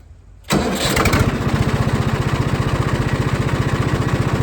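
Engine starting up at a mill, cranking briefly after a quiet moment, then settling into a loud, steady, rhythmic idle chug.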